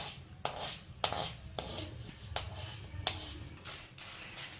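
Spices for citron pickle are dry roasted in a pan over low heat, with faint, rhythmic scraping and stirring strokes against the metal about every half second, close by and without speech.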